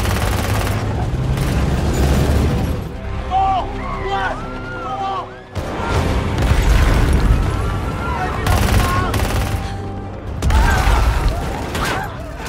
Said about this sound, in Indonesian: mereka langsung menyerang Ling Fang dengan menggunakan tank bajanya